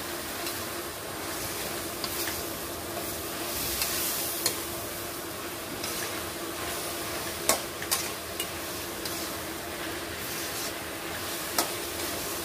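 Zucchini stir-fried with pork, squid and egg, with basil leaves, gives a steady close sizzle and hiss in the pan, broken by a few sharp clicks and scrapes of a utensil against the pan.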